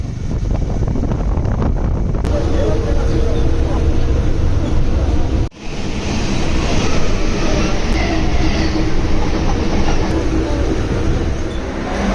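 A train at Dum Dum station, viewed from the metro station, gives a loud, steady rumble of rolling wagons that fills the whole stretch. There is one brief dip midway before the roar resumes.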